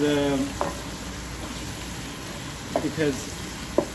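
Masala paste and browned onions frying in a curry pot for a meat curry, a steady sizzle running throughout with brief clinks and a voice speaking intermittently over it.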